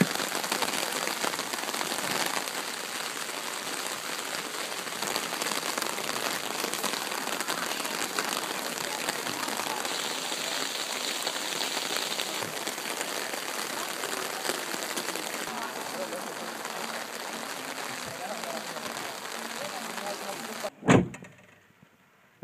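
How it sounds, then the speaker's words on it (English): Steady, heavy rain pours down without letup in Sweden, a dense hiss of drops on surfaces, ending with a sudden thump near the close. "the rain just keeps pouring down"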